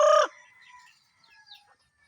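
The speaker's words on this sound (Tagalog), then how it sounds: "mga manok. Away-away na sila." Chickens on a small farm squabbling, one sharp loud squawk followed by faint scattered clucks and calls, no talk.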